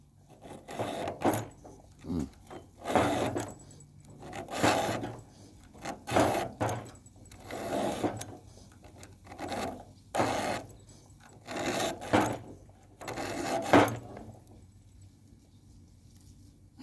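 Rhythmic rasping strokes of a file sharpening a chainsaw chain repeat in short bursts with pauses between, close and moderately loud with no speech.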